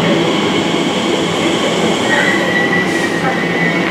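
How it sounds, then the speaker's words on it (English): A London train, unit 345 063, arriving at a platform, rumbles steadily close by, wheels grinding and a faint squeal rising midway, a continuous loud roar throughout. "Here comes our train"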